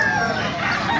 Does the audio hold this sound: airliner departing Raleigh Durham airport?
no